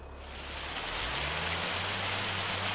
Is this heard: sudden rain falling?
yes